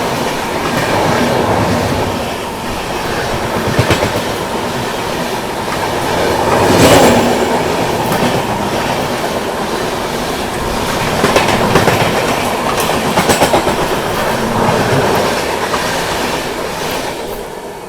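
The Tamil Nadu Express passing close alongside and overtaking on an Indian railway line, a loud steady rumble of wheels with rhythmic clickety-clack throughout and no talk.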